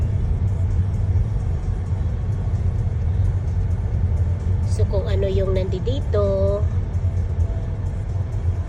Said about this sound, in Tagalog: ang dami ng sasakyan. So many car.